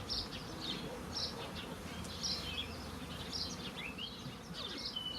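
A dense, continuous buzz of many honey bees close by at an open hive, with a few faint bird chirps above the hum.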